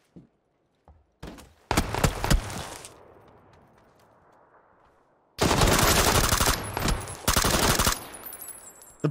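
Gunfire from an S12K shotgun in PUBG: a few short, sharp reports, then loud rapid bursts of shots with an echoing tail between them.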